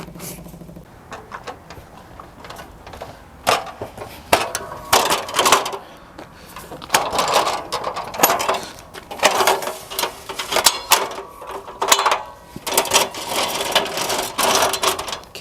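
Waste oil being drawn through a makeshift pump setup for home diesel making, heard as a busy run of mechanical clattering and rattling bursts that grow denser after the first few seconds, with no talk over it.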